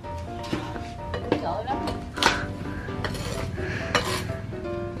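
Metal cooking pot used for grilling cakes in a Mekong Delta kitchen, handled with repeated clinks and clatters of pots and utensils amid background talk.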